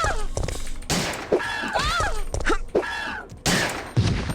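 Pistol gunshots in the video game Resident Evil 3 crack out as several sharp bursts over dense, loud game sound with tonal effects.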